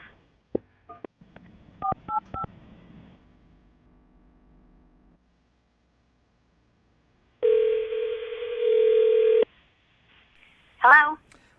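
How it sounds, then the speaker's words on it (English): A quick series of beeping dial tones sounds, followed after a pause by a steady ringback tone and a short trailing electronic chirp. "I'm going to call her right now, get her on the phone"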